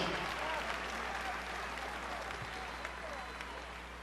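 A campaign rally crowd in Pittsburgh applauds a political speech, a broad, sustained roar of clapping that holds steady and fades slightly toward the end, with no distinct voices over it.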